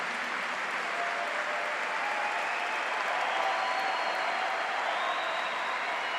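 A church congregation claps and shouts during a homily, a steady wash of applause with cheering voices mixed in, held evenly throughout at moderate distance.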